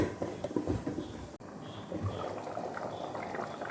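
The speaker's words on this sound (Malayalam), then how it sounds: "ഇത് തിളച്ച് വന്നിട്ടുണ്ട്, മട്ടനൊക്കെ ഇട്ട് കഴിഞ്ഞിട്ട് നല്ല തിളച്ച് വന്നിട്ടുണ്ട്." Mutton stew bubbles in a pot, a soft steady simmering burble with faint liquid gurgles, close and low in level, with no speech over it.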